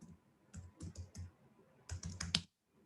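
Someone types a Conda activate command on a computer keyboard: a short run of close, crisp keystroke clicks, a pause, then a quicker cluster of taps ending in a firmer key press.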